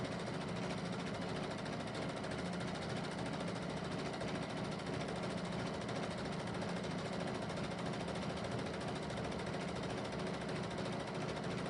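Sewing machine running steadily for free motion quilting, a continuous close mechanical whir with rapid stitching rhythm and no pauses, no talk over it.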